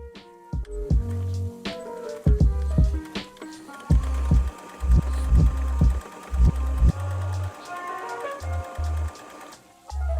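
A sewing machine straight-stitches a fabric face mask strap, close and loud, running in short whirring bursts with pauses between, its motor pitch rising and falling with each run.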